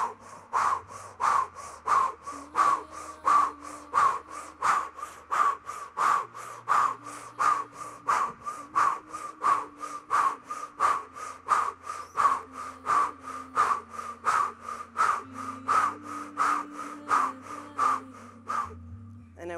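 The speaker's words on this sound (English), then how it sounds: "So we're just going to breathe very powerfully over the head" Powerful rhythmic mouth breathing in a breathing exercise: forceful, evenly spaced breath bursts, about two per second, repeat continuously for nearly twenty seconds over a low droning musical background.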